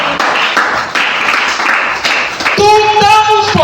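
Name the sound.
congregation clapping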